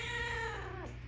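Seven-week-old kittens playing and meowing: a soft, faint, whiny meow that bends downward over a steady low background hum, with no talking.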